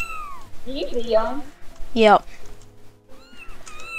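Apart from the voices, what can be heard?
cat meowing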